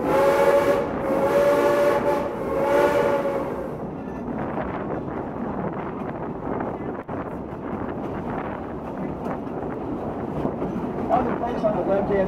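The Silver Dollar City steam train runs with passengers aboard in 2012, opening with a loud, sustained whistle blast, then a steady rumble and clatter of the cars rolling beneath wind noise.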